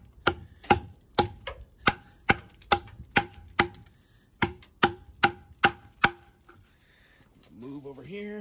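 An Eafengrow EF-137 big-belly knife with an N690 steel blade chops in a steady series of sharp, close strikes, about a dozen in quick rhythm, before stopping.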